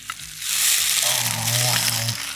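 A sausage pasta bake made with chicken sausages and parmesan sizzles steadily in the oven, a close, continuous hiss and crackle, with brief voices speaking over it.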